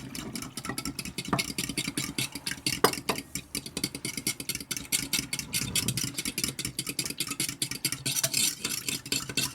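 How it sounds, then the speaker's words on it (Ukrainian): Warm water for yeast dough is stirred briskly in a bowl for a pumpkin placinda, producing a steady, rapid series of close clinking and scraping strokes that continue evenly throughout without talk. "Ми заливаємо сюди і все розмішаємо."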